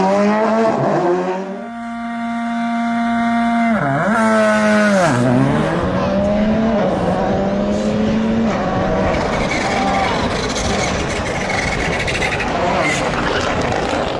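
A Volkswagen Polo GTI R5 rally car races along a Welsh road stage, its engine revving loud and close, dipping on gear changes and then roaring steadily with rough tyre and road noise underneath.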